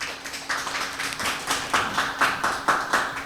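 Applause opening a youth humanities seminar at Daegu YMCA, a steady patter of claps that swells into louder, more distinct rhythmic strikes toward the end, with no talking over it.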